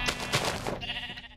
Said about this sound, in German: Schaf, bleib mal stehen, ich will dir nichts tun.